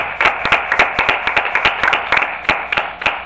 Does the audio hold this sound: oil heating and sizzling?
no